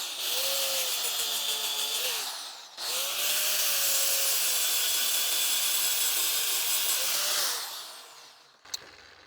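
A Shinto rasp works a wooden Pulaski axe handle in long, steady abrasive strokes with a rising, whining tone, near and loud, pausing briefly mid-way and ending with a sharp click.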